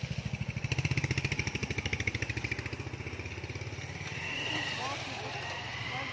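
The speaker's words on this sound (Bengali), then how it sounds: "মোটরসাইকেল আসছে সামনের দিকে" A motorcycle engine on a path in a park, its rapid, even putter loud and close for a few seconds before it gives way to a softer, rougher rumble.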